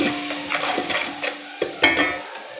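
Garlic and spices stirred and fried in a pot for vegetable pulao, with a steady sizzle broken by a series of scraping stirs and a few sharp spoon knocks, close and alone.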